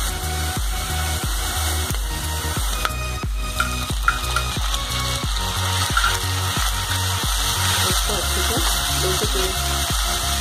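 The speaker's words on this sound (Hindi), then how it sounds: "अब इसके अंदर हम टमाटर डाल देंगे।" Onion and tomato frying in a pan over a medium flame: a steady, loud sizzle runs throughout, with rhythmic stirring taps as the mixture cooks.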